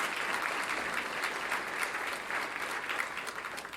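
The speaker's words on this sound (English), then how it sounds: "let's give them a round of applause too" Audience applause at an awards breakfast, a continuous even patter of many hands clapping, moderately distant and steady throughout.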